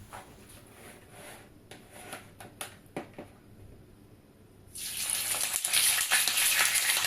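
Salted fish slides into hot oil in a frying pan: a few soft clicks and knocks come first, then a loud, steady sizzling hiss rises and keeps going close up.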